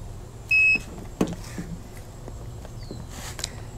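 A NAPA battery tester gives a single short electronic beep, followed by faint handling clicks and low background noise.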